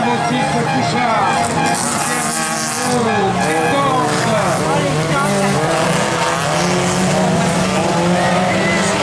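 Autocross race cars, including a Citroën and a Toyota, roar continuously on a dirt track at a 2016 national event in Minzac, engines revving and tires skidding, with a commentator talking over them throughout.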